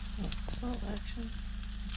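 Sausage sizzles steadily in a hot pan at an off-grid cabin while McGriddles are being made, a close, continuous crackle with a few sharper pops and faint voice-like sounds underneath.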